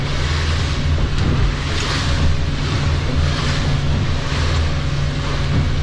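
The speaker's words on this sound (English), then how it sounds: "Now we're going to hit a few waves from the tow." A C-Dory 25 cruiser boat runs through a tow's wake, with a continuous low engine and hull rumble mixed with wind and water rush, steady and close throughout.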